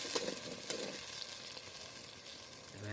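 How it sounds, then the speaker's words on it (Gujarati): Chili sizzling in hot oil in a pan, a steady faint crackling fry with small pops and stirring noises throughout. "તેલ મરચું ગરમ થવા માંડ્યું છે"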